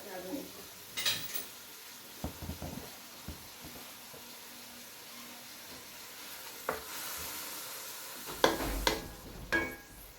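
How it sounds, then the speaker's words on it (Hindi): Sliced onions frying in a pan over a raised flame, a soft continuous sizzle broken by stirring scrapes and clinks of a utensil against the pan. "प्याज का हमने कच्चापन दूर करना है, इसको बहुत ज़्यादा गोल्डन ब्राउन नहीं करना"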